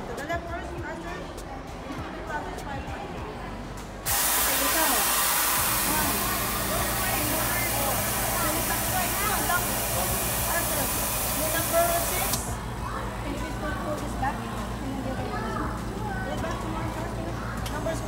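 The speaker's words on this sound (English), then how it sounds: "when the steam comes out, you stop" Steam hissing out of a play machine at KidZania, a loud steady hiss lasting about eight seconds before cutting off, with children and adults talking around it in a busy indoor space.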